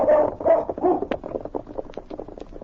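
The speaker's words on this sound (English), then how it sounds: "The intelligent dog circled around a moment, then once more barked to indicate he had picked up the scent" A dog barks as a radio drama sound effect. Several close, mid-pitched barks come first, then quieter scuffling and yips trail off, with no talk over them.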